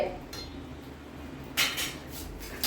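A lid goes onto a pot of simmering food in a home kitchen with a brief metallic clank and rattle, after a short stretch of quiet background.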